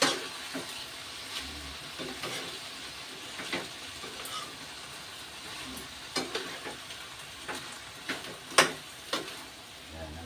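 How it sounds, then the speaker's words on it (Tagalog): Chop suey is stirred in a hot pan, with a steady sizzle of frying broken by intermittent scrapes and clacks of the spatula, growing louder toward the end. "Haluin po natin siya."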